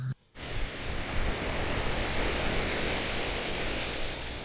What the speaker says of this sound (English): Sea breeze, sound of the waves.